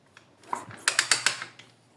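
A car engine is turned over by hand to find top dead center, giving a few faint mechanical clicks and ratcheting ticks, close and brief in a quiet setting.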